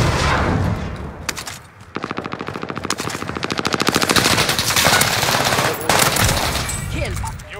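Rapid automatic gunfire from a multiplayer shooter game, long bursts of machine-gun fire and single shots following one another loudly, with faint voices of players talking underneath.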